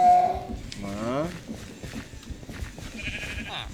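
Sheep bleats from the video game Minecraft, a couple of short wavering calls near the start, heard under a speaking voice and game sounds.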